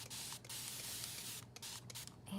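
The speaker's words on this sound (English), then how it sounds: "And I like using my misting bottle." Starch spray misted from a bottle onto fabric for sewing, a soft continuous hiss lasting a couple of seconds, fairly faint and close.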